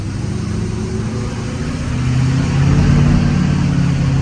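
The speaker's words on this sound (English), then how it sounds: "that's just feathering the throttle, it's just going" LBZ Duramax diesel truck engine with a WCFab intake kit and hotside pipe, idling steadily then rising into a throaty rev as the throttle is feathered, constant low rumble throughout.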